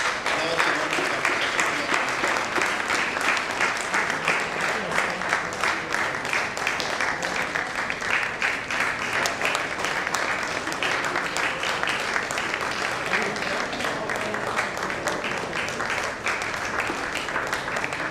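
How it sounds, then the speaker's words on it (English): Sustained applause from a conference audience honouring an award winner, dense and steady for the whole stretch, with faint voices mixed in. "Please give a big clap."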